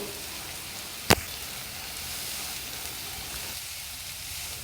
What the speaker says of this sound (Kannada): ಹೆಚ್ಚಿಟ್ಟುಕೊಂಡ ಸಬ್ಸಿಗೆ ಸೊಪ್ಪನ್ನು ಹಾಕಿ ಫ್ರೈ ಮಾಡಬೇಕು